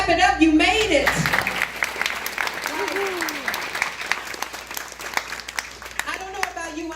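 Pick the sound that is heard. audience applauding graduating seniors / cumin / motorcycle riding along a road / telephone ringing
audience applauding graduating seniors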